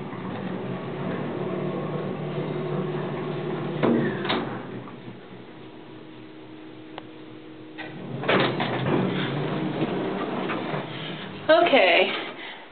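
Creaking, rumbling door of a 1970s Montgomery elevator, sliding with scraping bursts and a clunk near the end, close and loud against the hum of the car.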